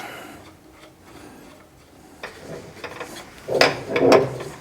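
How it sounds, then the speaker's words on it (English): Bolts are tightened on a Cutie Breeze quilting frame, a few soft metallic clicks and rattles building into louder ratcheting turns near the end, heard up close. "put in your bolts, and tighten everything down"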